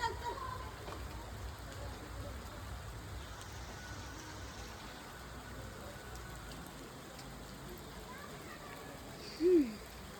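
Steady rain hisses evenly throughout a village, fairly faint and constant, with a short brief sound standing out near the end.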